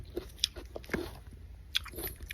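Crisp bites into a crunchy nectarine, with a few sharp crunches followed by soft chewing, close to the mouth and otherwise quiet.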